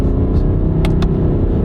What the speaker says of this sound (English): I'm going to rev the engine higher than normal